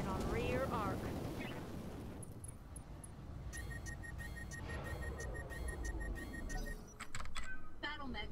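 Mech weapons firing in the BattleTech mod Roguetech, a night mission: roaring flamer and weapon blasts with whining, beeping electronic tones and a heavy burst near the end, with voices speaking over parts of it.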